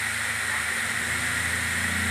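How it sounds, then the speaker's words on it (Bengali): Katla fish curry sizzles steadily in a pan while being stir-fried, a continuous close hiss of frying with no breaks and no voices. "ভালো করে আবার কষতে থাকলাম।"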